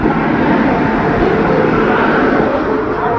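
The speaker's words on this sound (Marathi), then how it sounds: "platform number 2, fast train is passing" A loud, continuous roar of the Mahanagari Express rushing through Kasara station without stopping fills the whole stretch, steady and close, with no break or talking.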